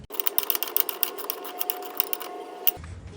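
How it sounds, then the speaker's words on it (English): A 13 mm wrench tightens the main centre bolt on a Pride mobility scooter canopy mount, giving a quick run of close, light metallic ratcheting clicks that stop abruptly. "go back with my 13 millimeter wrench and tighten this main center bolt"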